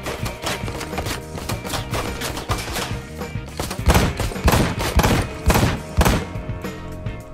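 Gunfire in Ride to Hell: Retribution, close and loud, with repeated sharp shots in irregular bursts that grow heavier midway, several strong blasts following in quick succession.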